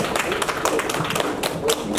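A small audience claps in welcome for a poet at a reading, a short burst of light, uneven handclaps close by.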